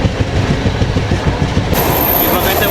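An AC double-decker express from Tirupati to Visakhapatnam running at speed: a loud, steady rumble with rapid wheel clatter on the rails. The sound brightens partway through, as if a door or window opens onto the track.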